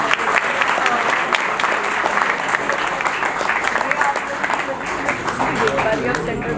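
A crowd claps steadily and loudly throughout, a dense, even wash of applause at a Hindi poets' honouring ceremony on stage.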